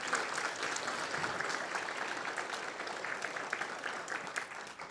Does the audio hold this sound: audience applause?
yes